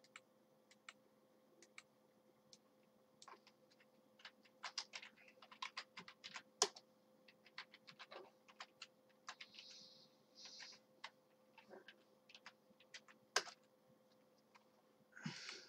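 Quiet, close typing on a computer keyboard: irregular bursts of light key clicks and taps spread across the stretch, with a low steady hum underneath and no talking.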